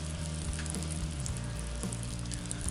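Two slices of onion frying in butter in a cast iron pan, a steady close sizzle with a low continuous hum underneath, even and unbroken throughout.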